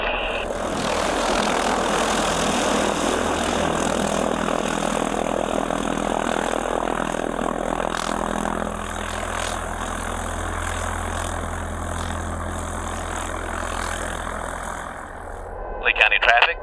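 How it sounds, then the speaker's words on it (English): A small propeller aircraft, an Archer, runs its engine at a steady idle, a continuous droning rumble up close that dips slightly midway and picks up a brief burst at the end. "Oh, we got the engine on. It's running."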